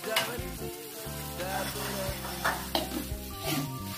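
Tofu soup ingredients sizzle and fry in a pan while being stirred, a loud continuous crackle with scraping and clinks of the utensil against the pan throughout.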